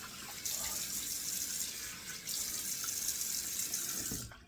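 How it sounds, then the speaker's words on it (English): Cold water runs from a sink tap in a steady, close hiss that starts abruptly, dips briefly midway, and cuts off near the end, with no one speaking. "Turning on the cold water in the tap here to give a couple of splashes of cold water here."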